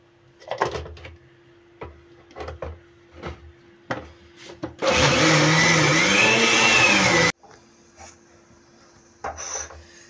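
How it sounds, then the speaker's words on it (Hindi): A blender grinds soaked lentils with a little water into a coarse paste, a loud steady whir lasting a few seconds between quieter clinks and handling noises in a kitchen. "थोड़ा सा इसमें पानी डालते हैं और इसको अच्छी तरह से ब्लेंड करेंगे"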